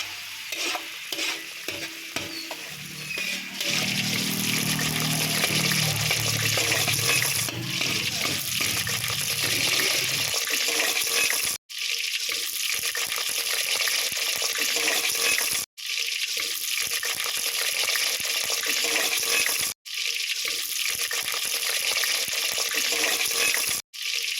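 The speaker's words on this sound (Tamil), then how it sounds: "அந்த வெங்காயம் வந்து நல்லா வதங்குற வரை மிக்ஸ் பண்ணிக்கலாம்" Steady sizzling of onions frying in a pan, with a spoon scraping and stirring, continuous and close, broken by a few abrupt cuts.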